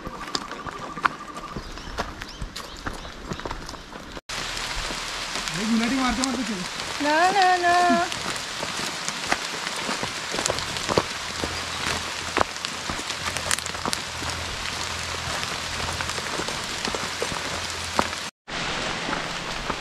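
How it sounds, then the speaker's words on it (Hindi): Rain falls steadily on a forest trek toward a hill lake, a dense close patter of drops with brief tonal sounds and faint voices partway through, running almost continuously to the end. "गाइस ये तो बारिश शुरू हो गई है"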